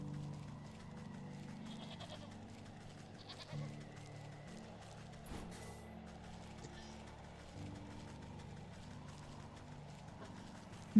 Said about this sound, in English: Oh goody, the goats got out.